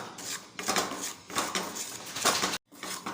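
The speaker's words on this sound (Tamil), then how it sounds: "ரவை வந்து நல்லா வறுபட்டு வரணும் கலந்து விட்டுப்போம்" Semolina (rava) roasts in a kadai while a spoon stirs it, giving repeated dry scraping strokes in uneven bursts with a brief gap near the end, close up and fairly quiet.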